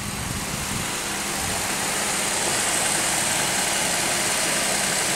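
A car engine idles roughly just after a cold start in winter-storm weather, a steady low mechanical drone with a slight uneven shake, close and constant throughout.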